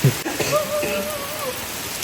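Steady rain falls in the Konkan, a continuous soft patter close by, with a thin high whistling tone drifting over it and no voices.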